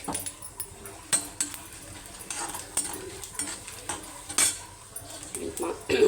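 A tempering of mustard seeds, chana dal, curry leaves and a dried chilli is stirred in a pan for idli upma, with clinking metal spoon-on-pan knocks and scrapes over a light sizzle.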